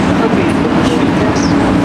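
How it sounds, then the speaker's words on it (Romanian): A driverless airport shuttle tram in motion, a loud continuous rumble of wheels and running gear with faint squeals, close and steady throughout, with no clear talk over it. "Urcăm și noi în tramvaiul acesta fără șofer"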